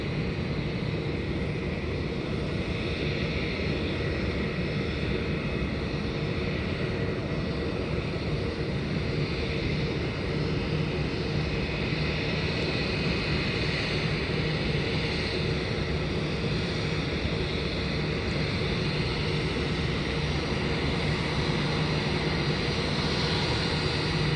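A Malaysian Airlines airliner from Kuala Lumpur passes during outdoor plane spotting as a steady, broad engine roar holding constant for the whole stretch, with no talking.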